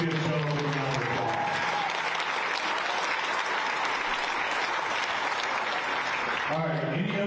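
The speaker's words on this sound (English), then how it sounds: "Let's give Joe a round of applause." A room of golfers at an evening pairings party breaks into a warm round of applause, dense and steady clapping filling several seconds, with a voice talking briefly at the start and again as it ends.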